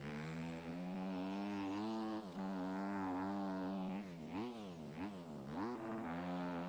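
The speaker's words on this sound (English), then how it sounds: "this is the same engine sound as the Yami 250F" A Yamaha 250F-style dirt bike engine in the MX Bikes racing game, a buzzing mid-pitched drone holding steady revs, then rising and falling sharply in quick throttle blips near the end.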